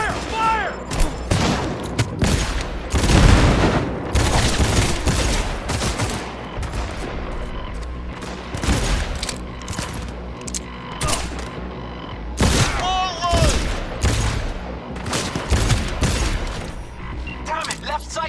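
Heavy firefight in Cyberpunk 2077: dense volleys of rapid gunshots and automatic fire crack in quick bursts throughout, loud and close, with shouted voices and game noise mixed in.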